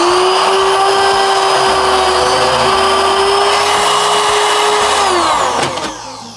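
A cutout bit in a power tool routs a slot between two holes in a layout table, a loud steady high whine running about five seconds, then winding down and stopping near the end.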